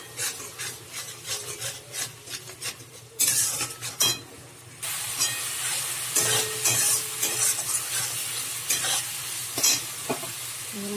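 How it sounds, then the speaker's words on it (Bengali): Spice masala with turmeric, cumin powder and salt fries in oil in a pan, a dense rasping sizzle broken by scraping stirs, growing louder and fuller partway through. "মশলাটা কষিয়ে নিয়েছি, তেল ছেড়ে গেছে"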